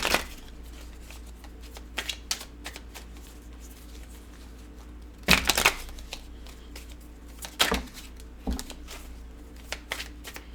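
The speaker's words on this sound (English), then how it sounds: "I'm shuffling up the cards" Tarot cards shuffled by hand in a quiet room, soft riffling and tapping with a few louder bursts of shuffling, close and without talk.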